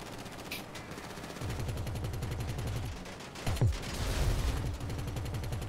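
Rapid automatic gunfire rattles from a vehicle in GTA V, long bursts of close, loud shots with a short pause before the firing resumes, and no talking over it.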